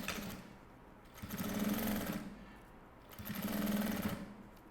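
A sewing machine stitches bias binding onto a fabric hygiene kit with a flap, running in two steady bursts of rapid, close motor hum with a brief quiet pause between them.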